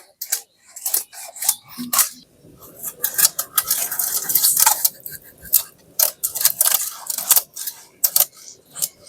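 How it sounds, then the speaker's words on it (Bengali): Rohu fish being cut into pieces in a Bengali home kitchen, heard as a close series of irregular sharp knocks, clinks and scraping strokes with short pauses between bursts. "রুই মাছটা সুন্দর সুন্দর ভাবে কেটে নিই"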